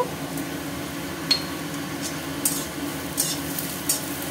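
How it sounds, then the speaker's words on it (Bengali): Poppy seeds frying with browned onion, stirred in the pan, make a soft, low sizzle broken by a few light clinks and scrapes of the utensil. "এবার দিয়ে দেবো পোস্ত।"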